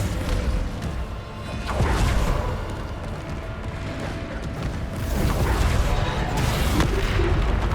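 A Descendo spell slams in the Hogwarts Legacy video game amid combat, loud rumbling booms and crashing impacts with swelling bursts around two and five seconds over constant dense battle noise.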